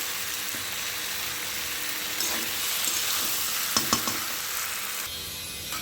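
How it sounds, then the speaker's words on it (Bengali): Water poured into a prawn and pointed gourd curry frying in a pan, giving a steady hissing sizzle close by with a few sharp bubbling pops, no talk. "এর মধ্যে আমি এবার হালকা করে জল দিয়ে দেবো"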